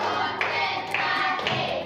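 A group of people in a classroom clapping together on command, several sharp unified claps in a steady rhythm, close and fairly loud over a busy room murmur.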